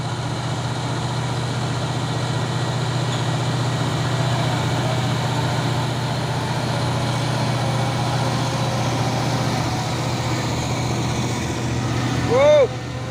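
A UD box truck engine idling nearby with a steady low rumble, held constant throughout, and a brief sharp rising sound just before the end.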